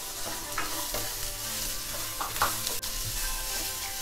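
Green peas for UP-style matar nimona roast in a pan with a steady, loud sizzle, a spoon stirring and scraping through them now and then.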